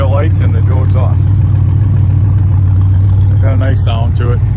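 A muscle car from California with dual exhaust idles with a steady, deep low rumble that runs throughout, while someone talks over it.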